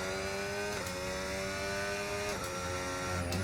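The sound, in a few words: racing car engine accelerating through gears, from a video game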